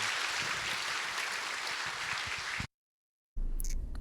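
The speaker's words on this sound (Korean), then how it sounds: "출산 자녀가 늘 때 박수로 축하해 주시기 바랍니다." A church congregation at a Sunday service claps to celebrate newborn children, a brief burst of close, dense applause that cuts off abruptly into silence.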